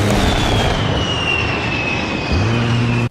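A-10 jet aircraft in a flight video game, a steady loud engine roar with a high whine, continuous and close, shifting pitch slightly near the end before cutting off abruptly.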